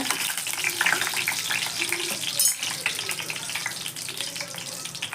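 Spices, fennel seeds and dried red chillies, sizzle and crackle in hot oil with a busy, uneven frying hiss, a few sharper pops and faint stirring sounds.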